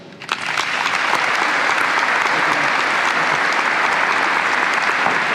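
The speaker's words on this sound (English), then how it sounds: "Please join me in a round of applause." Steady, loud applause from a crowd at a military change of command ceremony, starting abruptly and sustaining evenly throughout without a break.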